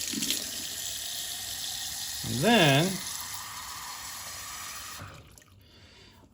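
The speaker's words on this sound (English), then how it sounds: "So now what you do is you fill it full of water, right?" Hot tap water runs steadily into a Lot-O-Tumbler rock tumbler barrel as it fills, a broad rushing hiss under a person's brief speech, before the flow stops near the end.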